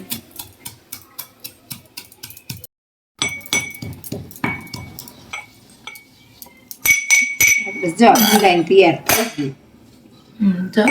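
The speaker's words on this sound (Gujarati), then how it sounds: "આખું જીરું આખા ધાણા અને તલ ત્રણેય વસ્તુને પહેલાં ખાંડી લઈશું" Whole cumin, coriander and sesame seeds are pounded in a mortar, giving sharp, rhythmic clinking thuds close by, with a brief pause and then faster, denser grinding with voices talking toward the end.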